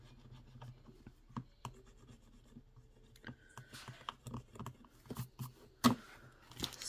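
A small scratch-off turtle panel is scratched to reveal a price: quiet, irregular rubbing and scraping strokes in scattered bursts, close by, with a few light taps and no speech.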